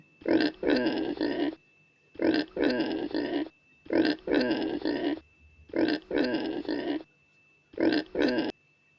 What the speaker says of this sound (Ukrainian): А хто це рохкає?